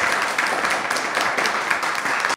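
An audience applauds at a program, steady dense clapping that fills the room from start to finish and then cuts off abruptly.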